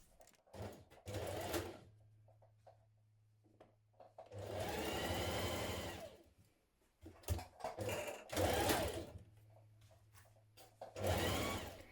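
A sewing machine stitches the seams of a fitted dress in several runs of steady rapid whirring, the longest about two seconds, with quiet handling pauses between them and no talking.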